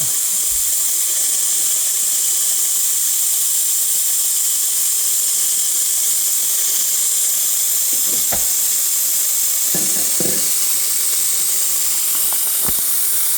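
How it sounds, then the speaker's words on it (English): Steam hisses steadily and loudly from the wand of a DeLonghi espresso machine during setup, a continuous bright rush with a few faint clicks and knocks near the end. "the steam comes out of that thingy"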